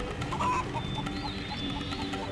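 Chickens cluck steadily in a brief, continuous burst of soft, overlapping calls, close by and with no talk.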